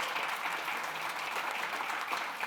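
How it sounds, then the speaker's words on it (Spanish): Sustained applause from a conference audience for four panel speakers, a dense, steady clapping of many hands filling the room without pause. "un aplauso para nuestros 4 ponentes"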